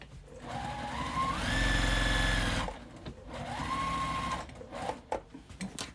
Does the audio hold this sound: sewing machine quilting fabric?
yes